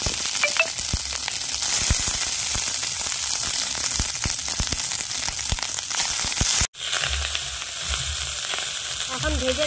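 Rice tossed into a pan with fried ginger while making vegetable fried rice, a loud continuous close sizzle with scraping stir strokes, briefly cut off before the frying resumes.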